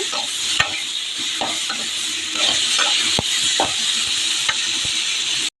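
Aubergine and dima greens fry in a pan, a steady close sizzle broken by sharp clacks of a spatula stirring and scraping, with no one speaking.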